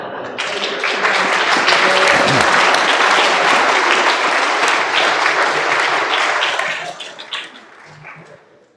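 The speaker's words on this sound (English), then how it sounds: "Give him a clap." Applause for the groom at an outdoor wedding ceremony in the Yarra Valley, a dense sustained clapping from the gathered guests that holds steady for several seconds before thinning out and fading at the end.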